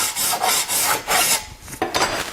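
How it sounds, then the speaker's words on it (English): A hand file rasps back and forth along the edge of a garden tool to take off the burr, a run of four or five steady scraping strokes, close and fairly loud, with no talking. "you want to remove the burr on the opposite side by just doing this"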